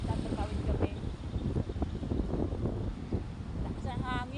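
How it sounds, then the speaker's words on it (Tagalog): Strong gusts of wind buffet the microphone with a steady, loud broadband roar during a crossing near Nasugbu, while people talk over it. "Lakas ang hangin."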